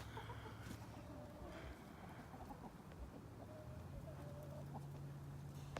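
Several chickens, including leghorns, in a new pen, heard as soft intermittent clucks over a steady low rumble of wind.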